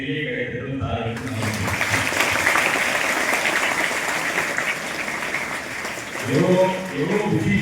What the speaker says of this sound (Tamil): அதுக்கு ஒரு பெரிய கைத்தட்டல் சாருக்கு